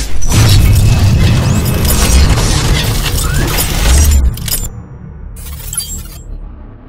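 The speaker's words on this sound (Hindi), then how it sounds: "नारियल के अंदर हमने बम को लगा दिया है" Firecracker bomb blasting inside a coconut outdoors: loud, sustained crackling roar with rumble for about four seconds, then fading to scattered pops and quieter debris noise, with no voices.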